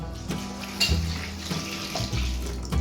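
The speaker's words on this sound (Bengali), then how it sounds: "গরম জলে এই শুটকি মাছটা গরম জলে দিলাম" Dried fish poured into a pot of hot water, giving a close, steady watery pouring and bubbling sound with soft knocks and clinks throughout.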